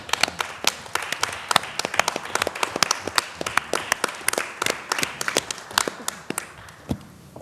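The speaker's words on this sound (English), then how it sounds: "I want to give him a round of applause" A small group gives Matt a round of applause, a few people clapping close by in an irregular patter of distinct sharp claps.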